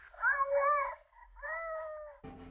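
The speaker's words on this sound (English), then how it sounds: "It's always cats." Close, clear cat meows, two long drawn-out wavering calls in a row, followed by a brief burst of noise at the end.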